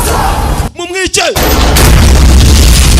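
Loud, dense rumble of explosions and gunfire in an action film fills the scene, briefly broken by a short shouted voice in the middle.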